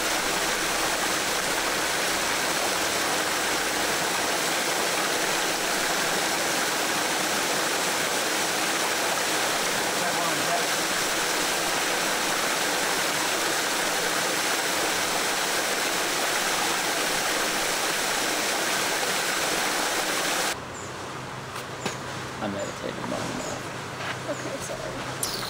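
Spray Falls waterfall rushing in a steady, loud, continuous roar that fills the scene for about twenty seconds before cutting to quieter ambience with faint movement.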